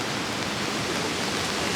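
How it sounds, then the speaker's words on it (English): A small stream rushes steadily into a larger river in Kyoto on a rainy day, a dense, continuous close-up wash of flowing water with no pauses. "So here's a smaller stream and this feeds into"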